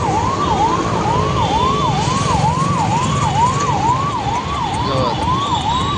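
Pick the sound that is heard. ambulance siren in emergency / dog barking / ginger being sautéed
ambulance siren in emergency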